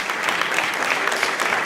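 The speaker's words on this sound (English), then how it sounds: "Let's give all of them and Ben Schachtman a round of applause for great work." Applause at the close of a municipal candidate forum in Wilmington, a steady dense wash of many hands clapping together, moderately loud and continuous through the brief moment.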